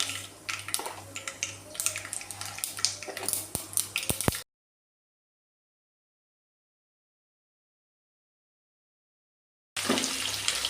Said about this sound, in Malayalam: ഓയിൽ ചൂടായി വന്നിട്ടുണ്ട്. കടുക് ഇട്ട് കൊടുക്കാം.